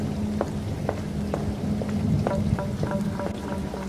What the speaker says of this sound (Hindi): जैसे जैसे रात काली होती जा रही थी, बारिश उतनी ही तेज होती जा रही थी।